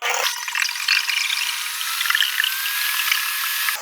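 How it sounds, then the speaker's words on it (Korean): An electric whisk beats eggs with water and bamboo salt for rice-flour bread, giving a steady, loud, high whirring buzz with wet swishing that carries on without pause. "이 거품기로 하면 계란이 잘 풀어져 빵이 더 부드러워지더라고요"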